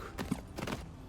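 Slow hoofbeats of a horse in a horse video game, three or four gentle thuds in a loose walking rhythm, close by with a quiet hiss underneath.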